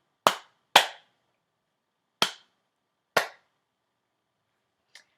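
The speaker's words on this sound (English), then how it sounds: "Can you clap it without saying the numbers now that you've heard it?" Students in a music class clap out a rhythm: four sharp, loud claps in an uneven pattern, then a faint fifth clap after a pause, with silence between them.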